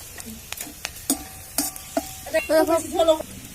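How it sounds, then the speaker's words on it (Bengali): A bay leaf drops into hot frying oil, bringing short bursts of sizzling, then spatula clinks and scrapes against the pan that grow busier toward the end. "একটা তেজপাতা দিয়ে দিলাম"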